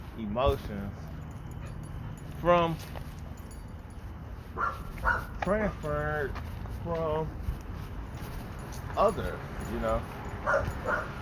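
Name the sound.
dogs barking in the background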